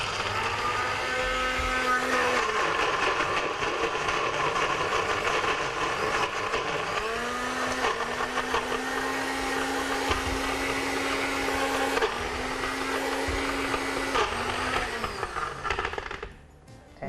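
Home blender whirring steadily as it mixes wild strawberry ice cream, a loud continuous motor whine that shifts pitch a few times as the load changes before cutting off near the end.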